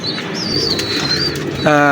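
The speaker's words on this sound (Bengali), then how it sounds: "আমি আপনাদের ছেড়ে কবুতরগুলো দেখাচ্ছি খাঁচাতে" Caged Kamagar pigeons coo close and loud, with soft whistly calls and a rising throaty coo at the end, against a busy indoor background and no clear talking.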